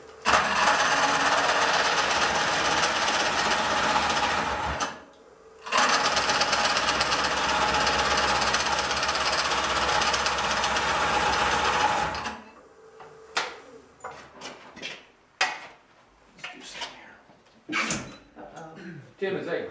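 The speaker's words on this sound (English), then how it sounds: "is that green wood you're cutting" A Oneway coring system on a lathe cuts into relatively green wood with a loud, continuous, roaring grind that pauses briefly once before running on. It stops partway through, after which scattered knocks and voices follow.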